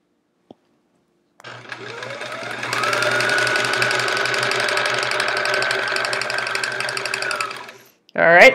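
A sewing machine runs in one long steady burst while rows of quilt pieces for an improv chevron quilt are stitched, preceded by a brief click and followed by a short noise at the end.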